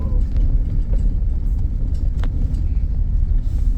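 Horse hooves clip-clopping at a steady pace during a horse ride, loud and close amid a dense rumbling, noisy background.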